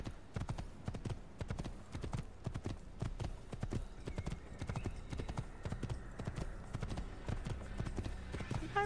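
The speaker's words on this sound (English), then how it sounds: "All right, let's get our horse." A horse gallops in the Assassin's Creed video game, with steady, rapid clip-clop hoofbeats that carry on throughout. A whinny may be mixed in.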